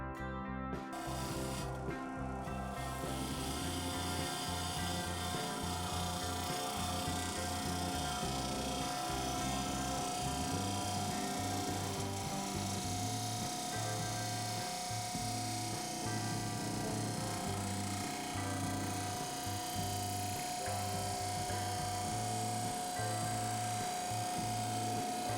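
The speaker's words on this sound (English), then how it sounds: "I think I need to sharpen the gouge now." A woodturning gouge is sharpened on a machine with a steady motor hum and continuous grinding rub, running evenly throughout with no talk.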